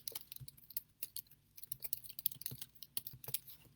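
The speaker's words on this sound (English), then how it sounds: "Sorry if you can hear me typing." Quick, irregular keystrokes on a computer keyboard, fairly close and light, clattering in uneven bursts with no talking over them.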